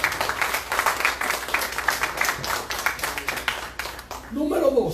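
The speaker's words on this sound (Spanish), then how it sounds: "Denle un aplauso al Señor." A church congregation applauds during a Spanish-language sermon, brisk clapping from many hands that continues steadily, then fades as a voice rises near the end.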